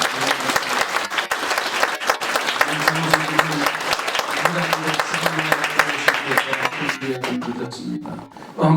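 A church congregation applauds a standing family during a service, a loud, sustained burst of many hands clapping close by, with voices murmuring and calling out underneath before it fades near the end.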